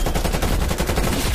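Rapid automatic gunfire in a first-person shooter game on the Raid map in Hardpoint mode, a loud, dense, continuous burst of shots at close range.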